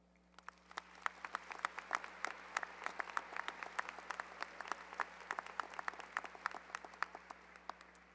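A high school graduation audience applauds the class of 2017 at Eisenhower High School, with sharp individual claps standing out over a softer bed of clapping that carries steadily throughout, sounding somewhat distant in a large hall.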